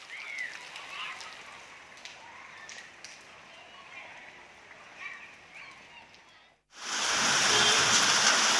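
Heavy rain pours as a dense, loud, steady hiss that starts abruptly near the end, after a stretch of faint background noise under speech.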